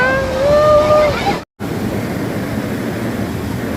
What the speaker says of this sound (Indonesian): Untuk arus sangat deras. Banjir bandang guys, baik.